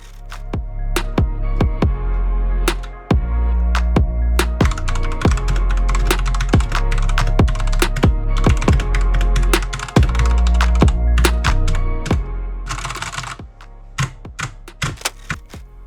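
Steady, loud clacking of a Redragon K552 mechanical keyboard, rapid dense keystrokes with sharp individual key hits throughout, heard alone with no talking.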